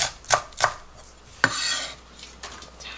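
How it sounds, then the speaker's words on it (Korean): A knife chops half a stalk of Korean green onion (daepa) on a board: a few sharp, close strikes spaced irregularly, with faint board rustle between and no voices. "대파 한 반 뿌리를 조금 잘게 썰어 넣을게요."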